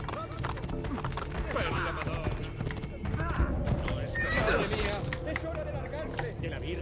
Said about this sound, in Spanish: puedo agarrar este caballo y irme bien